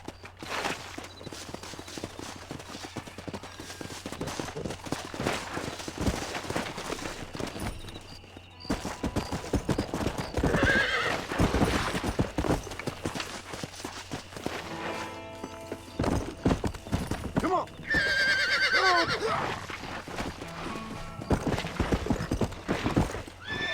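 Repeated hoof clip-clops from a galloping horse with a couple of shrill neighs, set against a busy synthetic soundscape with music from the video game Red Dead Redemption.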